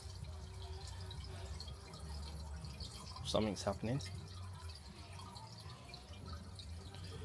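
Water runs steadily through a cleared outdoor drain gully, a low continuous gurgle and trickle with a few drips, as someone speaks briefly midway.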